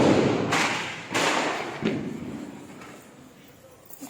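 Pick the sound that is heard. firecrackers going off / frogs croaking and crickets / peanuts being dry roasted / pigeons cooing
firecrackers going off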